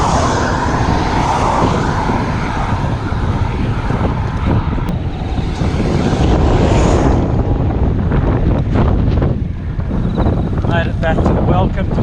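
Wind buffets the microphone while cycling into a headwind near Bathurst, a loud, gusting roar that rises and falls throughout, with a voice talking faintly beneath it.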